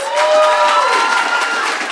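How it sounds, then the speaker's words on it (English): Audience applause and cheering at a children's book launch celebration, a dense steady wash of clapping from a crowd filling the room, loud and close throughout. "Please welcome Shola with a loud round of applause."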